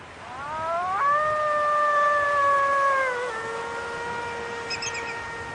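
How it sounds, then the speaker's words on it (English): A wolf gives a long, clear howl that rises, holds steady and then slides lower, a single drawn-out call ringing alone in open meadow air. "the way wolves communicate."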